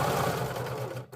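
A serger runs in one quick continuous burst, stitching through fabric up close, then stops abruptly near the end; no voices.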